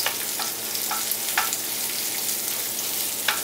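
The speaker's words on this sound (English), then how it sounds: "So just slightly cook the chili peppers" Chili peppers sizzle steadily in hot oil in a pan reused from a potato mixture, a continuous close frying hiss with a few sharper crackles and spatula scrapes.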